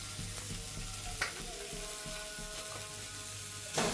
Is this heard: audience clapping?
no